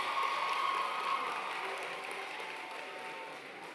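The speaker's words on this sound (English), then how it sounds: "let's give them another round of applause for their outstanding performance" At an Africa Day celebration on the Mbombela campus, an audience gives a faint, distant wash of applause after a performance, holding steady and then thinning slightly.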